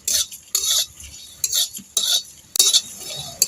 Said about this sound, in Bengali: এবার মশলাটা আমি ভেজে নেব।